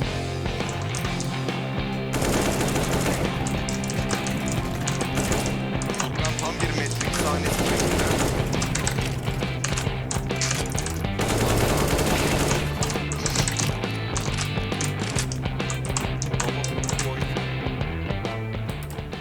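Rapid automatic gunfire and bursts of shots in the video game CS:GO play almost continuously and loudly throughout, layered with game sound effects and background music.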